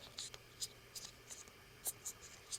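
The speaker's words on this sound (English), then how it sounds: "You're going to fold it over to a second triangle." Paper square being folded into triangles, soft crinkling and brushing rustles in short scattered bursts, close and quiet, with a faint breathy voice underneath.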